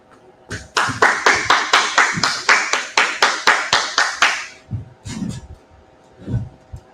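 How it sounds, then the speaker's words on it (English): A group claps hands in a class, about a dozen loud, close, unison claps in a quick even rhythm that then stop, followed by a few faint scattered sounds. "Clap it up."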